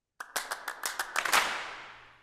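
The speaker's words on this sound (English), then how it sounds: "there's a big group of people clapping" A group of people clapping for a Dwarf Fortress soundtrack recording: about a dozen sharp claps, loosely timed and building into a ragged cluster, then a long reverberant decay into quiet.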